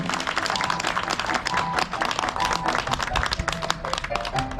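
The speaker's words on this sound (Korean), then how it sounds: "여러분 큰 박수로 환영해 주시기 바랍니다." A crowd welcomes a guest at the opening ceremony of a national seniors' park golf tournament in Korea with loud, dense clapping, mixed with crowd noise and some tonal sounds from the event.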